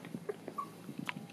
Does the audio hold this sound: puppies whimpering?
yes